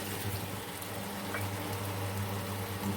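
Ginger-garlic paste sizzles in a pan as it is sautéed for egg biryani, a steady, soft frying hiss with a low hum beneath and no talking.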